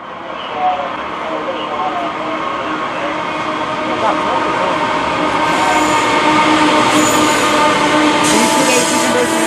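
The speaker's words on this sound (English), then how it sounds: "they decided to stop the train here to watch it roll by" A Norfolk Southern grain freight train rolls steadily past close by, a continuous rumble of wheels and cars with metallic clatter and faint squeals building over time.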